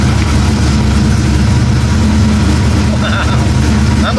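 A car engine running loudly up close, holding a steady rumbling idle with a slight rise in pitch near the end.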